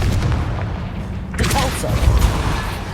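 The Confringo fire spell is cast in Hogwarts Legacy and lands as a loud, booming blast with a crackling burst, followed by a rumbling tail. It rises out of steady game sound and low background noise.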